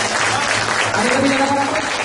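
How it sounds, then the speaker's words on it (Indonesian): Audience applause at an Indonesian motivational talk on the wonders of sustenance, a dense crowd clapping steadily for about two seconds, with a voice faintly audible underneath. "Tepuk tangan dong semua."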